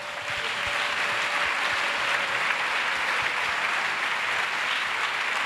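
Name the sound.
church congregation clapping and acclaiming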